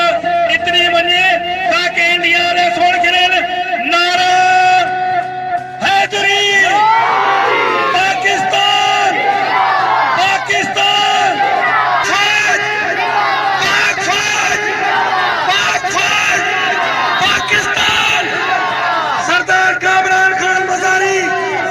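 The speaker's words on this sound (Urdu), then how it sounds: "پہلوانوں اور شائقینوں نے پاک وطن سے اظہار یکجہتی کے لیے پاکستان زندہ باد، پاک فوج زندہ باد کے نعرے لگا کر اپنی محبت کا ثبوت دے دیا۔" Wrestlers and spectators at a wrestling fair in Rahim Yar Khan on Pakistan Day chant patriotic slogans together, a loud rhythmic crowd of voices with whoops and cheers continuing throughout.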